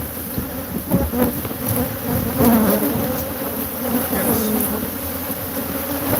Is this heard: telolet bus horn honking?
no